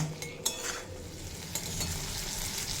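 A vegetarian drumstick (sajne data) curry sautéed in a pan, a continuous soft sizzle broken by scraping stirs of a spoon against the pan, close and steady with no voices.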